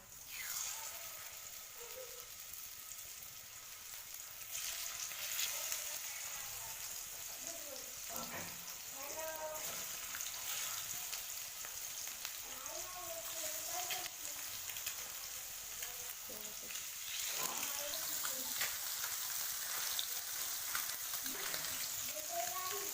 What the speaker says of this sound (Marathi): तर आता आपले मासे फ्राय करायला टाकलेले आहे